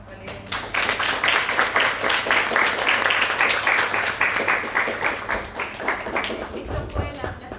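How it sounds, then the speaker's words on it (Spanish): A classroom audience applauds the professor at the end of a lecture on Lacan, the clapping rising sharply after a brief pause and staying lively and fairly close before thinning out near the end, with some voices mixed in. "vamos a darle un aplauso a la profesora"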